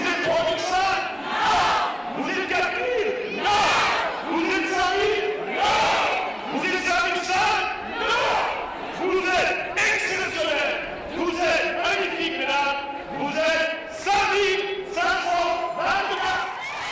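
A huge crowd of thousands of women runners at a pink October charity race in a city square cheers and shouts continuously, loud and close, with whoops and rhythmic surges throughout.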